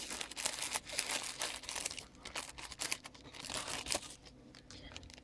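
Wax paper wrapping rustles and crinkles continuously as it is unwrapped from a new old stock Lutz slant bar safety razor, close and steady with crisp crackling bursts throughout.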